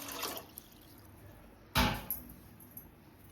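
About two and a half mugs of water poured into a cooking pot for boiling pulses, giving a single loud splashing gush that quickly fades, with faint knocks before and after.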